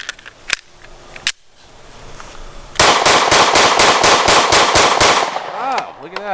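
A suppressed pistol fires a rapid string of about ten evenly spaced shots, loud and close, after a couple of earlier isolated clicks; a faint ringing or whine trails off at the end.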